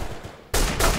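Burst-fire gunshots ring out in the video game Delta Force: Xtreme 2, a loud sudden blast of rapid shots after a quieter stretch, close and with no talking.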